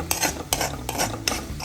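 Egg mixed into vegetables in a frying pan, with rhythmic scraping strokes of a utensil against the pan about every half second over a light sizzle. It is close and clear, and no one speaks.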